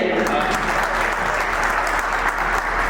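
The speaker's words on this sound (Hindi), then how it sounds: "ताली बजाइए।" A crowd claps loudly and steadily at a Holi Milan and public-servant honour ceremony at Devraji Premchand Public School in Dhanupur, Handia. The clapping forms a thick, unbroken wash for about three seconds.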